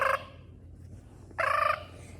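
A pet Quaker parrot gives two sharp, harsh squawks close by, a short one at the start and a longer one about a second later, with quiet between.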